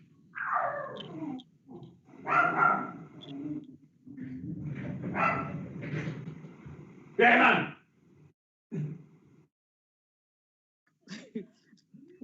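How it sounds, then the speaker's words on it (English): Dogs barking near an online parliamentary committee meeting, several loud barks and yips in bursts, one clustered around the middle, mixed with background voices before falling quiet. "You are being intimidated by dogs now"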